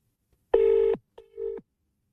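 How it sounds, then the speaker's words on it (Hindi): Phone call being placed: two electronic tones, the first longer and louder, the second shorter and softer after a brief gap, heard alone with no talking. "चलिए डूडी को फोन मिला देते हैं"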